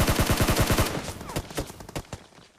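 Rapid bursts of automatic gunfire in a battle royale video game, with a fast rattle of close shots followed by sparser, fainter single shots.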